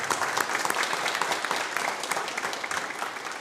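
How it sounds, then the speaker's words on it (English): A room full of people clapping steadily, a dense and even wash of applause without pause. "Let's give them all a round of applause for that."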